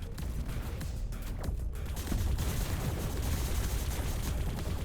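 Rocket launcher fire in a shooter video game, a dense, continuous barrage of blasts and booms with heavy low rumble that swells louder after the first couple of seconds, with no talk.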